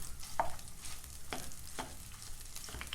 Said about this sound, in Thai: ยีให้เขาแหลกแล้วก็คั่วน้ำมัน